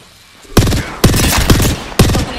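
Apex Legends gunfire: three loud, close bursts of rapid automatic shots separated by short pauses, each burst a quick rattle of several rounds following a quiet opening.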